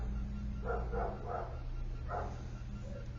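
A large dog barks outside on a street near a garage, giving a short burst of three muffled barks and then one more. The barking is distant and faint over a steady low hum.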